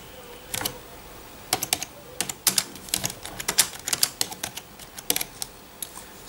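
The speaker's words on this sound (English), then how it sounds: "Okay, now I can start typing the message." Typing on a PC keyboard hooked up to a Samsung Galaxy Note 2 phone: close, crisp key clicks in irregular bursts and short runs, with brief pauses between words, in a quiet room.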